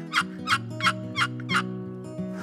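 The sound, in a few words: turkey calls made on a box call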